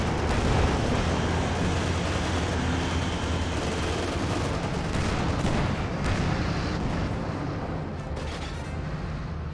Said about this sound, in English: Oh, I hear a couple of rifle grenades.